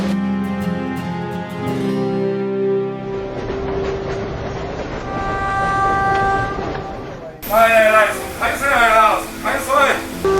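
Train horn toots and rumbling rail noise from a green passenger train in China, with people talking nearby throughout.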